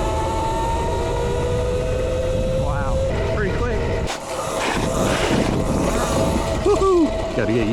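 An Aipas S1 60V electric dirt bike accelerates, its motor giving a rising whine over wind rush, while a rider talks and exclaims over the ride.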